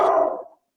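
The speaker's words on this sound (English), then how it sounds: "My doggy is barking in the background, if you heard him." A dog gives a single short bark or yelp in the background, fading quickly to silence.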